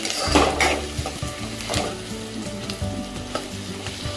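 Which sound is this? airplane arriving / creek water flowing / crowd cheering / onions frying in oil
onions frying in oil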